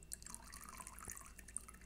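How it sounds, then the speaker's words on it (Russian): A thin stream of water pours from a kettle for brewing coffee by an alternative method, a faint, steady trickle with small dripping splashes, close and quiet. "Теперь я предположу, что я наливаю, а, точнее завариваю кофе альтернативным методом. И тоненькая струечка."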